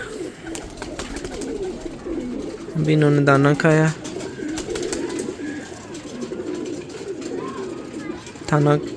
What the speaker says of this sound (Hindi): ये कबूतर आपके सामने,